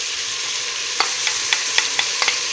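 Onions frying alongside chicken in a pan for Algerian chakhchoukha, a loud close sizzle with a series of sharp spoon-scrape stirring clicks repeating roughly every quarter to half second.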